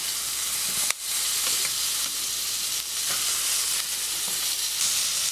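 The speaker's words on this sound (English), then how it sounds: "So we're going to sear it on the sides of the steak as well." A steak for steak au poivre searing in a hot pan, a dense continuous sizzle held close with one brief knock and small shifts as the meat is moved.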